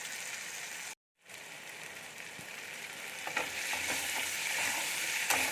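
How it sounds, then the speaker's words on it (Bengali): Ginger crackles and sizzles continuously in a pan for a vegetarian chana potol curry, with a brief gap of silence early on, then steady frying with occasional light scrapes. "আদাটা ভাজা হয়ে গেছে"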